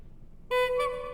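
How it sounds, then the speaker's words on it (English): A single sustained car horn honk from the video game Pesterquest sounds suddenly out of near silence and holds steady for about half a second, clear and close. "Yes, I honked at the smiley face"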